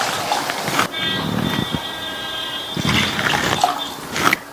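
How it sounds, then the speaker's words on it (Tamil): Water splashes and gushes steadily into a pan, two cups of water added to semolina for upma, a close, continuous liquid rush with a brief pause partway through. "இது கூட நம்ம ரவை எடுத்த கப்லயே 2 கப் அளவுக்கு தண்ணி சேர்த்துக்கலாம்."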